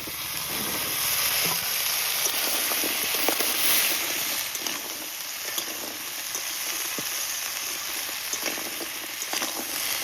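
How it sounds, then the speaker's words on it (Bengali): Washed taro stems added to crab in a hot pan fry with a steady, loud sizzle and crackle, with occasional stirring clicks and no talking. "ধোয়া গাঠিগুলো দিয়ে দিচ্ছি কাঁকড়ার মধ্যে।"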